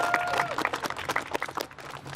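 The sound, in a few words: round of applause at a White Cane Walk press conference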